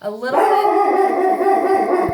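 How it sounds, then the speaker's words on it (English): A dog barks and yips loudly and close by, making one sustained whining bark-howl with a few short yips, while a person speaks briefly over it indoors. "sorry for my dog"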